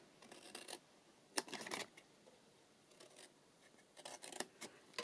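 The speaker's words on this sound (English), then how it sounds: "so I'm just going to snip down." Scissors snipping down the score lines of a paper treat box, several short crisp cuts close up, in quiet surroundings with no talk.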